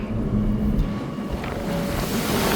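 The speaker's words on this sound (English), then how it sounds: "It is quite windy" Strong wind rushes over the front observation deck of a ferry at sea, a loud, steady low roar with gusty buffeting and faint engine or water rumble underneath, no voices.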